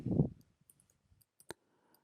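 A computer mouse clicks during software setup: a few faint ticks, then one sharper click in an otherwise quiet room.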